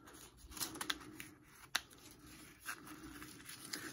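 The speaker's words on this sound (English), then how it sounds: "just take the shears and just start cutting along the main stem" Shears snip along the main stem of a whole dried tobacco leaf, giving a few quiet, irregular crisp cuts with light papery rustling and one sharper snap, close and faint, with no talking.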